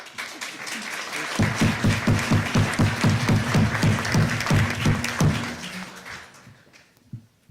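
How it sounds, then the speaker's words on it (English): Audience at a sustainability roundtable bursts into applause, clapping building quickly and holding strong for several seconds before tapering off to near silence. "And would you applaud for them, please?"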